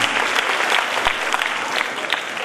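Strong, steady applause from the audience at a school orchestra concert, greeting a spirited Koli folk song, dense and continuous throughout with no voices standing out.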